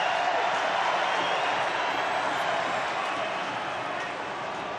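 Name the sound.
rugby league stadium crowd cheering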